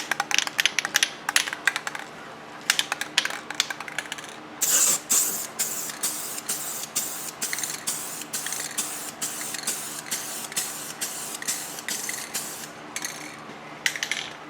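A Rust-Oleum Custom 5 in 1 spray paint can with selectable nozzles hisses in a long series of short, sharp bursts close by, with brief quiet gaps between them.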